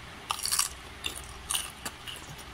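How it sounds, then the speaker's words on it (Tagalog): Raw, fresh okra bitten and chewed with several crisp crunches in short bursts, close and fairly quiet, with no talking. "kumakain na lang ako ng sariwang okra"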